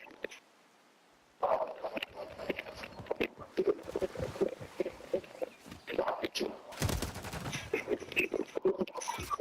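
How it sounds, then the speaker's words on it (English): Remote turret gunfire in a first-person shooter video game, rapid bursts of shots rattling over several seconds amid game effects, with players talking over the action. "Hostiles deploying a remote turret."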